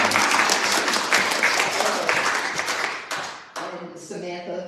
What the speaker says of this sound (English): Did you hear that applause?